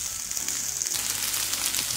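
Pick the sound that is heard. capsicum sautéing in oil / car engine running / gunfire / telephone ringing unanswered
capsicum sautéing in oil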